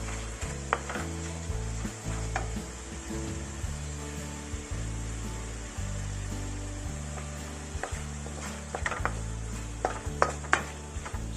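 Tomato going into a hot pan of ampalaya and salmon for a Filipino dish, a steady soft sizzle with occasional clinks and stirring scrapes, moderately close with no talking.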